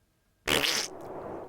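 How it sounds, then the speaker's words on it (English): Silence breaks into a single loud fart, a sharp blast that sputters briefly and trails off into a lower rumble. "Sounds like a man of epic farts."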